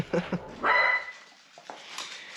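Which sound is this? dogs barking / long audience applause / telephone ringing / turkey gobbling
dogs barking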